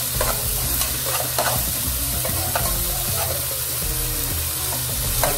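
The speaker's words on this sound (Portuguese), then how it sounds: "Vou deixar refogar tempero" Garlic and scallions sauté in a hot pan as seasoning for a savory pie, giving a steady, close sizzle broken by occasional scraping stirs and light utensil clicks throughout.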